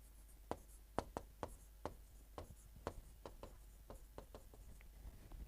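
Pen writing on paper while working through mathematics: quiet, close scratches and light taps come in an irregular rhythm of short strokes.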